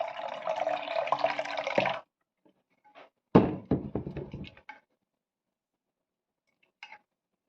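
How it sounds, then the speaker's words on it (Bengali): Water pours in a short gush, then a few sharp knocks and splashes follow, with a faint clink near the end, in a home kitchen during summer drink preparation. "আর একটু জল।"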